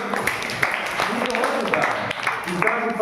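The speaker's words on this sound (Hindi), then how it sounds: "वेरी गुड, ताली बजाइए हम लोग।" A group of children claps steadily and unevenly for a few seconds, lively patter of many small hands, with voices mixed in.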